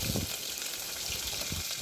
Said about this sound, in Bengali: এখন শুকনা মরিচ রসুন আর পাঁচফোড়ন দিয়ে ডালটা আমি তেলে দিয়ে নেব